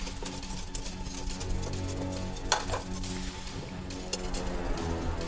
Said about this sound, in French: portez l'ensemble à ébullition, sans cesser de remuer